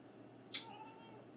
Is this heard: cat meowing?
yes